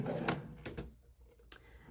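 A small jewelry storage drawer holding necklaces slides open or shut, giving a few short scraping and knocking sounds, fairly quiet and close.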